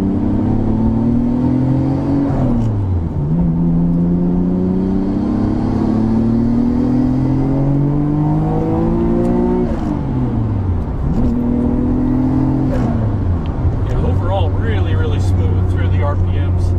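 A Nissan Skyline GTR R33 with about 380 horsepower revs up smoothly through the gears, its engine pitch climbing, dropping at each shift and rising again. The engine is loud and close, with someone talking over it.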